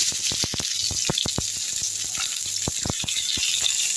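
Green chilies and onions fry in hot oil in a kadai, giving a steady close hiss with scattered sharp crackles and pops. No one talks.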